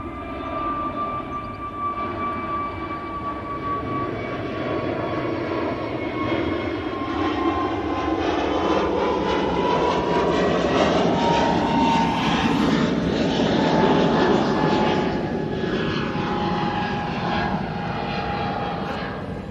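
A Boeing 787 Dreamliner jet at Manchester Airport roars steadily with a sustained engine drone and whine, holding loud and close for the whole stretch and swelling slightly toward the end.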